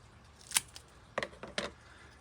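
Scissors trimming a houseplant on a front porch, several crisp snips, one sharp cut followed by a quick cluster of three or four, close and quiet, with no talking.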